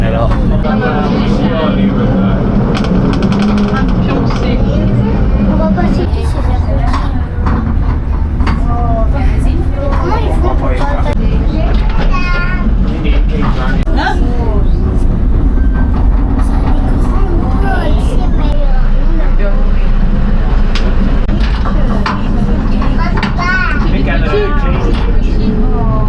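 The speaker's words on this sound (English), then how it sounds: "So I just had a great ride there on the train." Theme park safari train reinforced against lions and tigers, rumbling steadily with a low, continuous rolling drone throughout, close and loud, with people's voices and crowd babble mixed over the ride noise.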